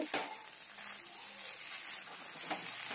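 Egg poriyal fries in a pan with a soft, steady sizzle and a few sharp scrapes of stirring spread across the moment, close by and fairly quiet.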